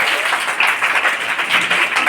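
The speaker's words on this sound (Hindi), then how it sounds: "इनके लिए जोरदार ताली।" A school audience applauds at a Children's Day quiz competition, with dense, steady clapping from many hands that stays loud throughout.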